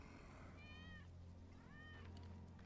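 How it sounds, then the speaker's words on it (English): Wedge's cat in the Final Fantasy VII Remake game gives two drawn-out meows over a quiet game soundscape, faint and slightly distant, with a short chirp at the end. "That's Wedge's cat."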